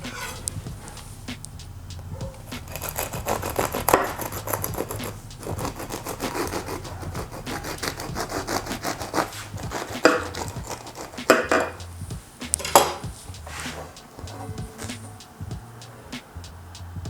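Knife slicing through freshly baked crusty focaccia bread: repeated crackling crunches and sawing strokes with occasional sharp knocks of the blade on the board, close and fairly loud, and no talking.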